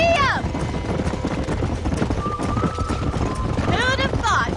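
A bucked-off bronco gallops under a rider in the Red Dead Redemption video game, its hooves clip-clopping quickly and steadily, with shrill horse whinnies at the start and end and game music in the background.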